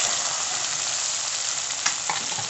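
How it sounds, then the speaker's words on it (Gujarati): Okra sizzling in hot oil with asafoetida as a tempering, a steady dense frying hiss throughout with a few small pops, close and fairly loud, no talk. "હિંગ મૂકી અને પહેલાં ભીંડાને વઘાર નાખીએ"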